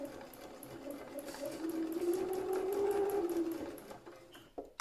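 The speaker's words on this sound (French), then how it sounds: "vous allez coudre au point droit tout ça" A sewing machine runs a straight stitch through fabric scraps, a steady close mechanical whir that rises and holds for a few seconds before tapering off, with no voices.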